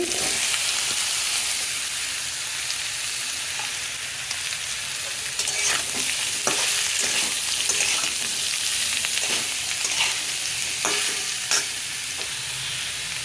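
Pumpkin and a dried chilli frying in a pan make a dense, continuous sizzle, broken by repeated scraping stirs of a spatula, heard up close with no voices.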